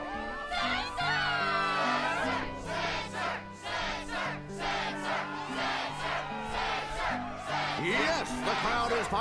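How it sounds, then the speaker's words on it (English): A video game crowd at the Struggle tournament in Kingdom Hearts 2 roars and shouts continuously, a dense, energetic wall of voices with musical tones underneath, loud and sustained throughout. "the crowd is fired up"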